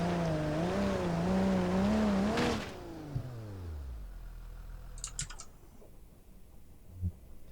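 An older front-engined car in a video game revs hard and loud, then its engine note falls away as it goes off a cliff, followed by quieter clicks and a few sharp impacts.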